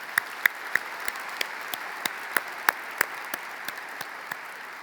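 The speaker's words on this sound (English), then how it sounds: "Everyone, please give them a big round of applause." Audience at the Glenelg High School 2023 commencement ceremony applauds the graduates, a steady wash of clapping from a large crowd with scattered sharper claps standing out, moderately distant.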